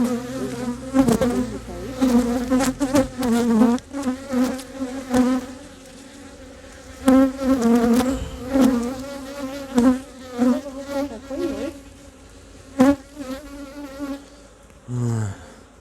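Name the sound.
honey bees buzzing at hive during re-queening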